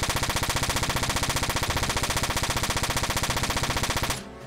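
Mech weapon barrage in Front Mission 4, a rapid continuous stream of evenly spaced gunfire bursts, loud and close, running for about four seconds before cutting off abruptly into a low tail.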